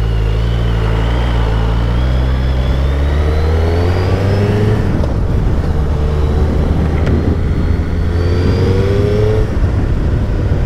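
Suzuki Hayabusa motorcycle fitted with Yoshimura exhausts accelerating hard, a loud close engine note that sweeps up in pitch, drops at a gear change and climbs again, with wind rush throughout and no talking.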